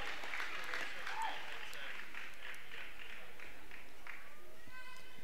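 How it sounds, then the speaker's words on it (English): A crowd applauds steadily at a girls high school basketball game between Roncalli and Bishop Chatard, a dense wash of clapping from the stands that continues under a commentator's voice. "And Prather gets a nice round of applause as she checks out."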